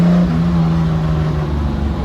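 Turbocharged BMW M50 engine revving to about 4,000 RPM on a dyno with flex fuel: a loud, steady, close engine drone that eases slightly near the end.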